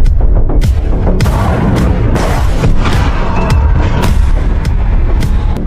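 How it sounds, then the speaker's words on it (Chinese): Loud, continuous barrage of booming blasts and sharp bangs from an explosion scene in a Michael Bay action film, dense low rumble throughout with repeated impacts and no talking. "十几名精英死于这场爆炸"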